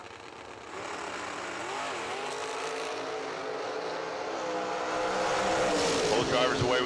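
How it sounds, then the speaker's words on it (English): Drag race cars launch off the starting line at a summer drag-racing event, their engines swelling into a loud, rising roar that builds toward the end, with a voice faintly underneath. "Both drivers away on the green light."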